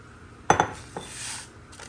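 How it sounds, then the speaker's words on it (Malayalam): Strawberry jelly mix tipped into a bowl for a custard and fruit pudding, heard as a couple of quick clinks of a bowl or utensil followed by a soft, brief pouring rustle, close and fairly quiet with no talking. "അപ്പം ഞാൻ ഒരു പാത്രത്തിലേക്ക് ആ ജെല്ലി മിക്സ് ഇടുവാണ്"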